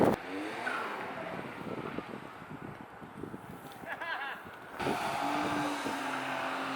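A Suzuki Wagon R engine drives past with a building roar and faint tire noise, fairly distant, and its sound swells again toward the end.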